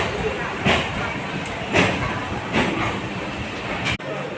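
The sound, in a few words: train arriving at Budge Budge station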